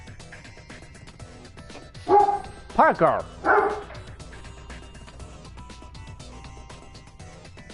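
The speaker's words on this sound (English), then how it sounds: "Sorry about the dog barking." A dog barks nearby in a quick burst of three or four loud woofs and yips, then goes quiet. A person speaks briefly over a steady low background.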